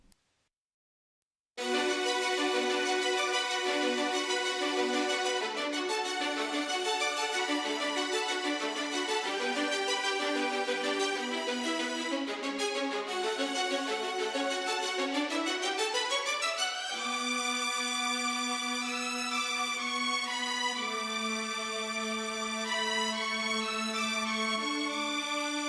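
A sustained orchestral strings part from a metal mix, playing alone: dense held chords that swell and shift, with a rising sweep midway and a clear change in harmony, after a short silence at the start.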